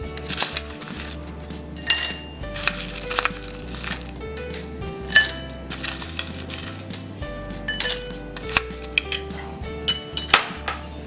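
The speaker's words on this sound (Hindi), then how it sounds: "अब हम ग्लास लेंगे। इसमें हम बर्फ डालेंगे।" Ice dropped into a glass for a jaggery masala shikanji lemon drink clinks and rattles in bright clusters, with several distinct hard knocks over a quiet background.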